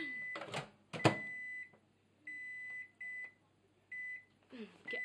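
A microwave oven cooking scrambled egg, with several steady electronic beep tones of about half a second to a second each, spaced through the stretch, and brief bursts of clatter and rustling near the start and end.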